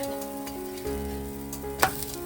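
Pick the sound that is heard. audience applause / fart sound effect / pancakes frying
pancakes frying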